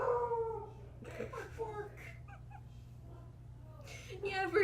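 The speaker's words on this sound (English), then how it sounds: "every now and then she remembers she can howl" A dog howls indoors in a few drawn-out, wavering bursts at the start, around the one-second mark and again at the end, fairly faint against a low electrical hum with quiet gaps between.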